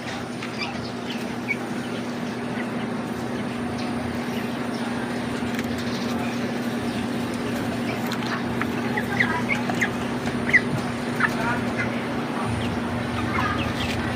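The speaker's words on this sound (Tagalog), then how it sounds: "Ito naman po yung ating native chicken." Broiler and native chickens cluck and call inside an elevated coop, scattered soft clucks over a steady low hum, with a few slightly louder calls near the end.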